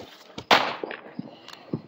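A firecracker bursts on the Fourth of July with one sharp, loud bang close by, surrounded by a few smaller clicks and pops.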